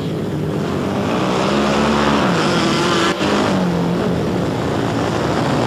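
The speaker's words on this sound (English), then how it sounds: "Gilfus lights up the rear tire of that Harley Davidson and almost got in the grandstand." Vintage Harley-Davidson racing motorcycles roar around a dirt track at a 2002 Vallejo race, a loud continuous blare of engines rising and falling in pitch as the bikes pass.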